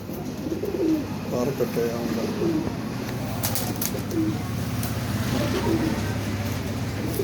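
Golden and teddy breeder pigeons coo in repeated low throaty phrases close by, with someone talking over them and a steady background hum.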